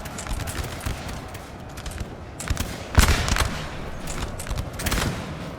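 Scattered musket shots from skirmishing voltigeurs in a Napoleonic battle in Napoleon Total War, crackling irregularly at middle distance over a steady battlefield din, with one sharper, louder report near the midpoint.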